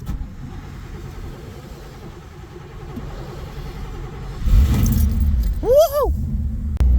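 A carbureted Chevrolet Camaro cold-starting in extreme cold: keys jangle and the starter cranks before the engine catches and rumbles loudly up close, with a voice whooping briefly near the end.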